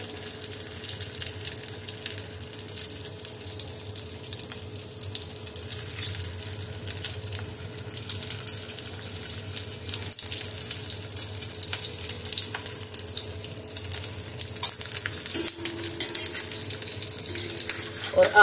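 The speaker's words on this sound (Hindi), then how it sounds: "तो तेल गर्म हो गया है और अब इसको डाल देंगे।" Food dropped into hot oil fries with a steady, dense hiss and crackle that holds evenly throughout, with occasional faint clicks.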